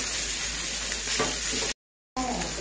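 Boiled chicken sizzles and fries in a hot pan with a steady, close crackle and a few stirring scrapes. The sizzle drops out briefly near the end and then resumes.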